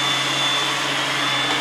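An iRobot Roomba S9+ robotic vacuum cleaner runs with a loud, steady motor whine and broadband suction hiss. The sound is close and constant throughout, with no talk.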